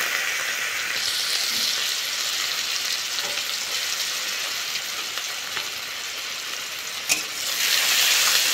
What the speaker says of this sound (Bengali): ফোড়ন হয়ে গেছে, গ্রেট করা পেঁয়াজগুলো দিয়ে দেবো